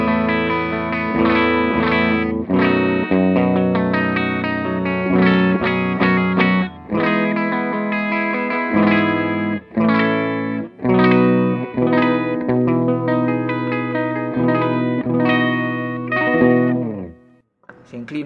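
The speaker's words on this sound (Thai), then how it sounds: "เสียงคลีนประมาณนี้ครับ" Clean electric guitar tone with a Bjfe Model G overdrive pedal bypassed, played as ringing chords and picked notes for about seventeen seconds at steady moderate loudness, alone with no talking, trailing off at the end.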